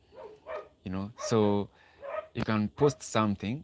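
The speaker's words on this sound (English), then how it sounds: "There's a kennel outside my window" Dogs bark from a kennel outside a window, short yips and barks scattered under close, steady talking.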